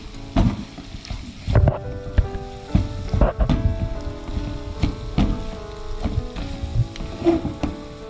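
Cooked tapioca stirred into a spice mix frying in a hot pan: loud steady sizzling broken by repeated clattering scrapes of a spoon against the pan.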